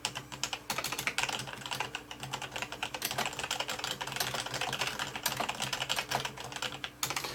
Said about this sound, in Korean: 키를 실제로 한번 좀 타이핑을 좀 해볼까요?